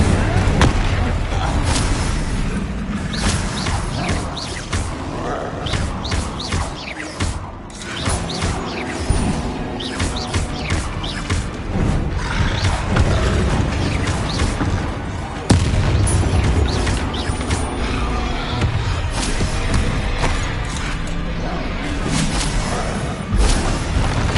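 An Incendio fire spell cast during Hogwarts Legacy combat on PS5, lost among dense, loud battle effects with booms, crashes and rumbling, and a voice talking throughout.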